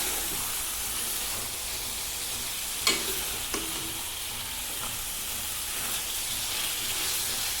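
Mutton kala bhuna sizzles and fries steadily in a pan, a constant broadband hiss with a few sharp scrapes of stirring, close and alone without talk.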